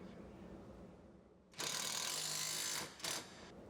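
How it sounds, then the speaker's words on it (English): Wrench and socket ratchet tightening the top bolt of a rear lift shock on a 2014 Ford F150, a faint hum giving way to a loud ratcheting burst of over a second, then a shorter second burst, close by. "grab your 18mm open-ended wrench and your 15mm socket and tighten down the top bolt."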